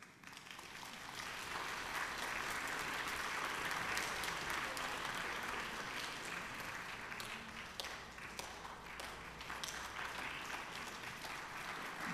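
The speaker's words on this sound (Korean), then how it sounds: "여러분 다시 한번 큰 박수 보내주십시오." A concert audience at the 2022 Jeju International Wind Ensemble Festival, at a band performance, gives sustained applause, a steady wash of many hands clapping that swells in and holds for several seconds without break.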